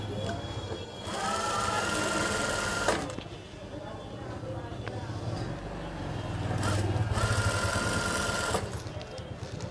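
A sewing machine stitches a frock in two sustained runs of fast, even mechanical whirring, close by, with quieter pauses between them where a person speaks.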